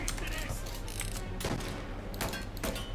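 Gunfire in the Mafia video game: a few sharp shots burst out around the middle and end, over a constant low game rumble, with a voice speaking at times.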